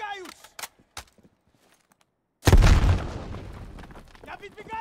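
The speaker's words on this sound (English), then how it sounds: "Incoming grenade!" A grenade blast in Call of Duty: Black Ops Cold War, a sudden heavy boom after a near-silent pause that rumbles and slowly fades, preceded by shouted voices and sharp clicks.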